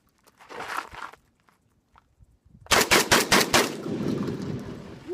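A Catamount Fury II AK-style 12 gauge shotgun firing birdshot lets off a quick string of about five sharp, loud shots close by, after one earlier lone report and some shuffling.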